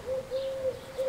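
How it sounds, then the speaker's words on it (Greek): A small bird nearby on Amorgos island, Greece, calls in three steady, sustained whistled notes separated by short pauses, against quiet background hiss. "Δεν ξέρω αν ακούγεται τα πουλάκια της"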